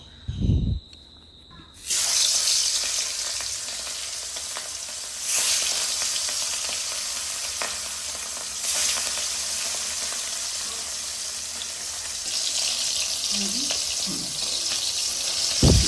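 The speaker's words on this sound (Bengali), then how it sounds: "এখন আমরা মাছগুলো ভেজে নেব।" Pieces of rui fish fry in hot oil in a wok. A loud, dense sizzle bursts in after a brief quiet start and then holds steady and close, swelling a few times, with no talk.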